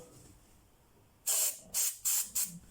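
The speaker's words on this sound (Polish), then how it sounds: "Możemy też psiknąć delikatnie sprayu." Aerosol spray, a special grease for a brake caliper, is applied during a rear brake replacement: four short, loud hissing bursts in quick succession after a quiet start, close to the microphone, with no talking.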